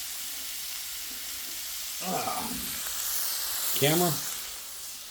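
Home fried potatoes sizzle in a cast iron skillet as a steady, moderate hiss, with two short bursts of speech over it.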